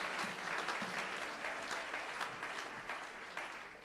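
A church congregation applauds Jesus during a French-language worship service, a dense, steady wash of clapping from many hands that fills the space and stays loud throughout, with faint voices mixed in.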